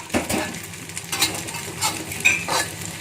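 Beaten eggs with sausage frying in a pan for a simple omelette, giving a soft steady sizzle with a few scraping, stirring sounds from a utensil against the pan.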